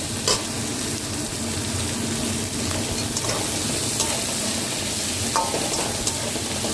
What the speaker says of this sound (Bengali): ফোড়নটা হয়ে গেছে, এবার আমি পেঁয়াজ কুচনোগুলো দিয়ে দিলাম।